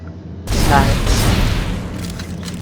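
A heavy explosion booms in the video game Dead Space 2, bursting in suddenly after near silence and then rolling into a long, loud rumbling decay.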